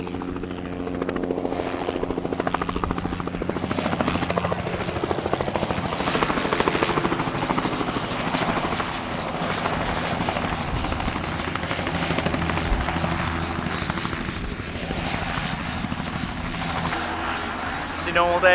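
A helicopter's rotor drones loudly and steadily at Turweston airfield, a thick pulsing roar that holds for the whole stretch with little change in distance.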